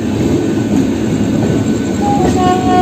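Goghat local train running from Howrah to Rishra, a loud continuous rumble of wheels and carriage noise heard from onboard, with faint squeals rising late.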